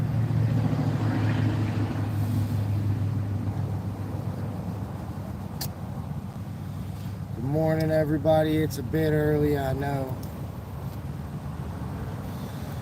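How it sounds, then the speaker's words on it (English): Steady low rumbling wind buffeting a microphone outdoors throughout a fishing live stream, with someone speaking over it partway through. "Hopefully y'all can hear. It's a little windy."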